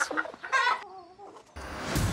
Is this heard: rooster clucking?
yes